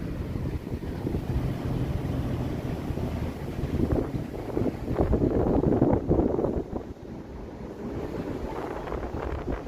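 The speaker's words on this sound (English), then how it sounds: "The wind definitely is making things a little more interesting though." Blustery wind gusting along a Toronto city street on a breezy afternoon, a steady low rumbling roar buffeting the microphone that swells into stronger gusts midway, with no talking.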